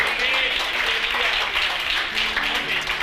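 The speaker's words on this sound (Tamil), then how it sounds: "கைத்தட்டுங்க ஒரு அவருக்கு." Congregation clapping during a church praise and worship service, a steady patter of many hands at moderate loudness, with faint voices and a sustained musical tone underneath.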